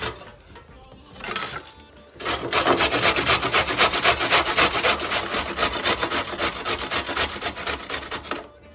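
Carrots grated on the coarse side of a box grater for a kale salad, making a fast, steady run of loud scraping rasps after a brief softer start, close up with no talking.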